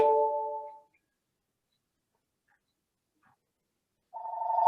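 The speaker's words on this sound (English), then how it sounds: "I'm going to mute so you don't listen to my phone ring." A telephone rings in a quiet room during a webinar, with one clear trilling burst, then silence, then a second ring beginning.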